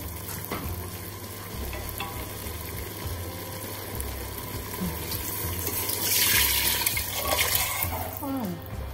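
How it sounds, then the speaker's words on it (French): Water pours into a pot of harira holding meat, spices and butter, a steady rushing splash over sizzling that swells louder toward the end, close and without talking. "Maintenant on va ajouter l'eau."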